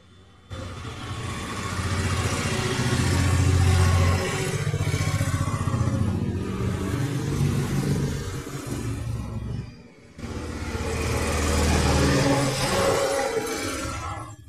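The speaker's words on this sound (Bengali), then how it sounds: "সিলিন্ডার প্রায় বোরিং হয়ে এসছে, দেখুন কাটিং হয়ে নিচে নেমে এসছে" Boring machine cutting a Honda Achiever motorcycle cylinder block, a steady grinding mechanical whir that runs for several seconds, briefly stops, then starts again.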